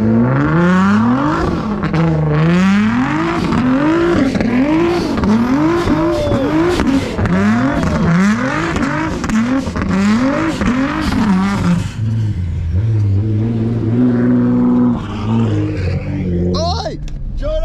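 Model car revving hard on a garden race track, the engine note rising and falling in a steady repeated cycle as it spins round, close and loud with people talking over it, then dropping to a lower idle.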